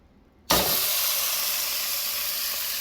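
Beef sirloin cap with crosshatch-scored fat hits a hot pan with a sudden loud sizzle that continues as a steady, intense hiss.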